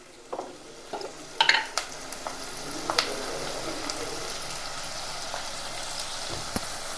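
Chopped onions sizzling in oil in a clay cooking pot, a steady close frying hiss with a few clinks and stirring scrapes near the start, then settling into even sizzling.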